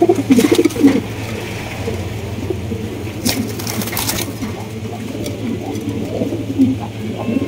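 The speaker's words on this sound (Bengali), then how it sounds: "ব্ল্যাক কিং কবুতর দেখেন, একদম বিগ সাইজের মাশাআল্লাহ, টপ কোয়ালিটির ব্ল্যাক কিং" Black King pigeons, large-sized birds, coo in low repeated throaty phrases close by, with soft fluttering and background chatter of people at a pigeon sale.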